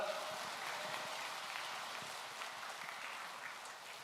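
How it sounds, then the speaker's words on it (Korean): A church congregation applauds to welcome a guest pastor to the front, a soft, steady patter of many hands that sounds somewhat distant, with no speech over it. "나오실 때 큰 박수로 맞이하겠습니다."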